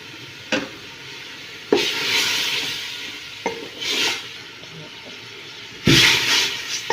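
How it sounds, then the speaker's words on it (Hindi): Onions fry in ghee in a cooking pot over medium heat, giving a steady sizzle with repeated stirring scrapes and a few louder clatters, while a voice talks quietly underneath. "घी डाल के अच्छी तरह प्याज को फ्राई करना है।"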